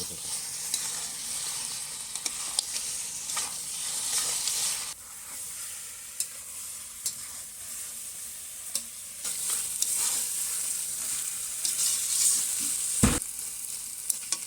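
Mutton curry masala sautés in a pan with a constant hissing sizzle, punctuated by periodic scrapes and clacks of a stirring spoon, up close with no voices.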